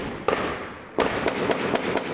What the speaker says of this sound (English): Video filmed by the Iraqi military shows government forces on the city's streets exchanging gunfire with the militants